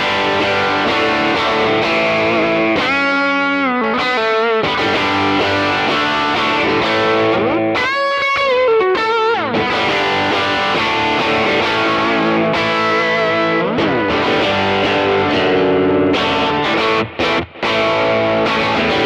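Crunchy, sizzling electric guitar runs through a Kemper profile of a 1964 Vox AC10 Twin amp on its bright channel, with strummed chords, fast bends and lead runs that stay loud and unbroken.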